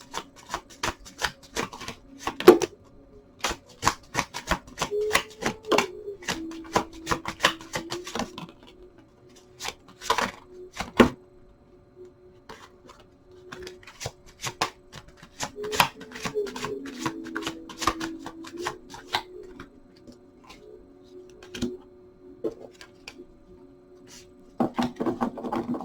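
Tarot cards being shuffled by hand, with repeated bursts of riffling and flicking card noise spread across the clip, fairly close and distinct, with quiet pauses in between.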